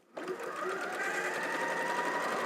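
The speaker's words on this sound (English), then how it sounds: "I'm just letting the machine do its work and just letting it all go through nice and comfortably" A sewing machine runs steadily, stitching bias binding onto a quilt block: a close, continuous whirring motor hum that starts abruptly and holds an even speed, with no talking.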